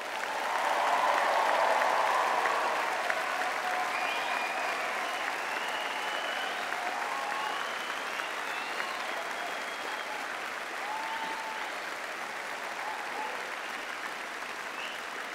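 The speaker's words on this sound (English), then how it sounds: "applause." A graduation ceremony audience applauds award and prize recipients, with sustained, dense clapping that swells early, then settles into a long even round and slowly thins out.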